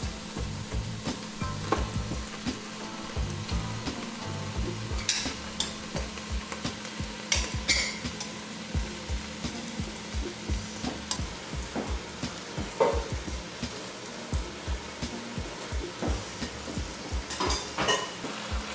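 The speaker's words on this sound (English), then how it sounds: "once the onions have softened, I'm going to reintroduce the oxtails back into the pot" Oxtails and softened onions sizzle steadily in a pot for Jamaican oxtail stew, while a spoon stirs and scrapes against the pot in repeated knocks and clatters, close and without talk.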